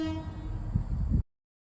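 An air horn gives a brief test blast, a loud, harmonic, train-like tone held for about a second over some low rumble before cutting off abruptly into silence.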